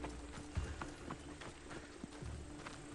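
Horse hooves clip-clopping at a steady trot in Assassin's Creed Odyssey, a quiet, even run of soft thuds with no other sounds over them.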